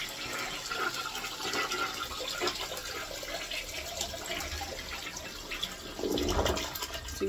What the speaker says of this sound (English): I'm gonna flush it.